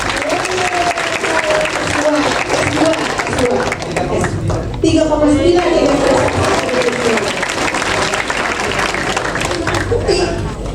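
Audience applause at a university public lecture on student mental health, sustained clapping throughout with a speaker talking and light laughter over it.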